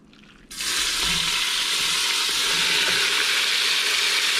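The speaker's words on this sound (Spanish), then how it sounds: "La flama está un poco alta porque queremos que se dore, que se selle la carne." Beef hits a hot pot over a high flame and sizzles loudly, the searing starting abruptly after a quiet moment and continuing as a steady hiss.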